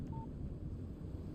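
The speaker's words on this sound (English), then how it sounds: "Text message from Barry." A single short electronic chime sounds faintly from a phone as a text message arrives in Alan Wake Remastered, set against a low rumbling background.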